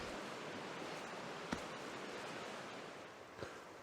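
A river flows through woodland along the River Dart as a steady, broad rushing wash of water, with a couple of faint brief knocks partway through and no voices.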